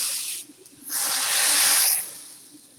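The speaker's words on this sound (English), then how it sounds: "The tadka is almost ready now. You can see it's fluttering. You can hear it's fluttering." Tadka spices sizzling and fluttering in hot oil for a traditional Indian rasam, a broad hiss that swells loudly for about a second, then fades back to a quieter crackle, close by with no talk.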